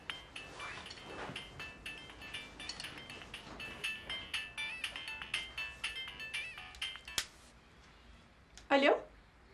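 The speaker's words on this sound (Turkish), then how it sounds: "Telefonum mu çalıyor? Benimki değil bu." A phone ringtone melody plays steadily from inside a house, with clinking and speech-like sounds, then stops; a short voice follows near the end.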